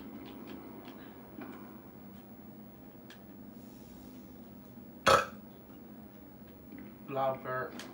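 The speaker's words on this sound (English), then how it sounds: "Yeah, it was a loud burp." One short, loud burp breaks out midway through quiet indoor sound, followed by a couple of softer bursts of talk and faint background noise.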